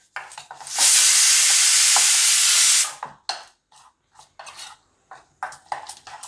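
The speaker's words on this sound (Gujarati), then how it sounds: "આનો જ આપણે વઘાર કરવાનો છે." Tomato tempering for garlic potatoes hisses in a loud burst of sizzling for about two seconds, then a spoon stirs and scrapes the pan in short irregular clatters.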